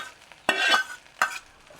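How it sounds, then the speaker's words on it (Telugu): A spoon stirring fried tempering of peanuts and chana dal into tamarind rice pulihora in a pan, two short bursts of scraping and a light sizzle, near and fairly loud, with quiet pauses between. "తాలింపు మొత్తం కలుపుకున్నాం బాగా."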